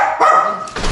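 Chihuahuas at home bark in loud, close, high-pitched yaps, with a few quick barks in a row and no talking.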